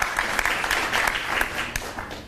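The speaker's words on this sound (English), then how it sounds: "Why don't we give this team a round of applause?" An audience at a University Day 2022 civic engagement event applauds a team with brisk, dense clapping that fills the room, then begins to fade after about two seconds.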